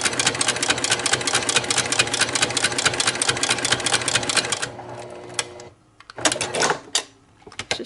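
A sewing machine fitted with a vintage Greist buttonhole attachment stitches a buttonhole in a rapid, steady mechanical clatter heard close by. The stitching slows and stops near the end, then restarts in a brief final burst.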